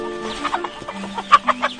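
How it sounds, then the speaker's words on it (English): A chicken on a tea farm clucks in a series of short, close calls, the sharpest bursts bunched near the end over a low background hum. "This chicken is also part of the farm here."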